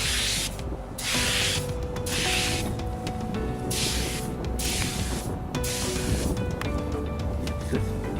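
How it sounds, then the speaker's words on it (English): Bursts of hissing glue spray onto pool wall panels come in repeated pulses, each lasting about a second, close and fairly loud with short pauses between them. "I'll spray these other panels here."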